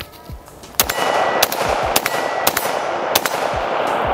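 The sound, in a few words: AR-15 rifle gunshots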